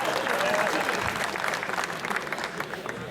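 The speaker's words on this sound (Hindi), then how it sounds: "एक बार जोरदार तालियां" Sustained, vigorous applause from an audience during a storytelling performance, a steady wash of many hands clapping at an even level, with a faint voice briefly audible early on.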